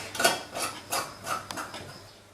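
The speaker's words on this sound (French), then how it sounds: "Avant de mettre les opercules et mettre le couvercle." Glass preserving jars being fitted with seals and lids while pork curry is prepared for sterilising, giving four or five light, close clinks and scrapes of glass and metal spaced about every half second, with no talking.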